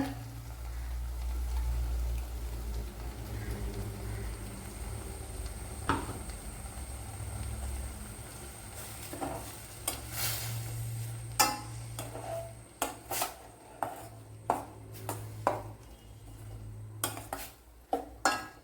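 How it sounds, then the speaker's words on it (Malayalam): Ground coconut paste poured into a pot of carrot pachadi and stirred, giving a low wet churn at first, then a series of sharp spoon clinks and scrapes against the vessel, spaced irregularly and growing more frequent, with no talking. "ഇനി ഇതിലേക്ക് അരച്ചു വെച്ചിരിക്കുന്ന അരപ്പ് ഒഴിച്ചു കൊടുക്കുക"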